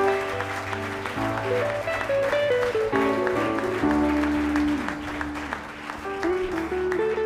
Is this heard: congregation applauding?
yes